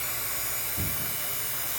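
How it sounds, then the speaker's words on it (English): A vacuum pump hooked to a car's AC system runs with a steady, loud buzzing drone, unbroken apart from one brief low thump. "shut off the vacuum pump"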